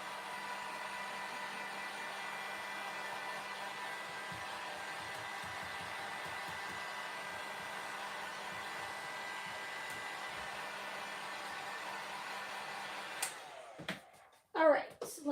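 Hair dryer blowing steadily to dry craft cutouts for a DIY fence project, a constant whirring hum that cuts off near the end, followed by brief handling clatter.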